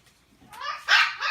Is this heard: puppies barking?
yes